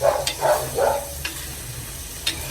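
Washed dried anchovies dropped into a hot pan for a Kerala-style thoran, giving a soft sizzle with a few stirring scrapes and taps. The sound is fairly close and stays low, with no talking.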